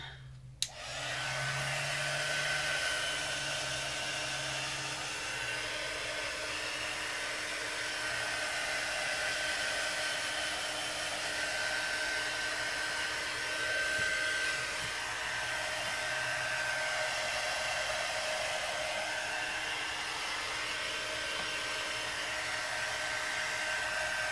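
A hair dryer blows steadily over a mixed media painting for a craft session, a loud continuous whir that starts after a brief click and runs without pause, no voices over it.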